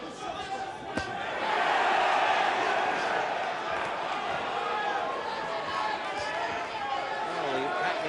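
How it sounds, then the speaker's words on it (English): A boxing crowd in Hackney, London roars and cheers for Dennis Andries, a dense continuous swell of voices that rises after a sharp thud and holds loud throughout. "the Hackney London crowd now really turning the cheers on for Dennis Andries"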